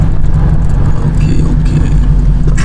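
A car fitted with a ported Boss 302 intake manifold rolls up close by, its engine giving a loud, steady low rumble that holds without a break for the whole stretch.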